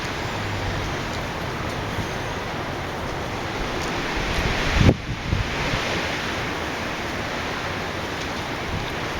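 Strong outdoor wind buffets the microphone in a continuous roaring rush, with a louder gust surging briefly midway before settling back to a steady blow.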